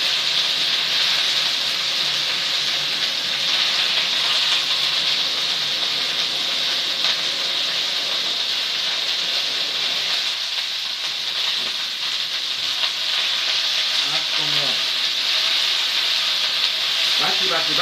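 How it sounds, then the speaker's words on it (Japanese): Vegetables sizzling and crackling on a yakiniku grill at a home barbecue, a loud steady hiss with scattered pops, and a voice speaking briefly. "バチバチバチ言ってますよ。"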